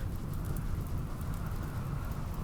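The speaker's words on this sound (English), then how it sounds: "Rain! Yes!" Steady rain falling in the video game RimWorld, a constant soft hiss with low rumbling texture, loud and unbroken throughout with no talk.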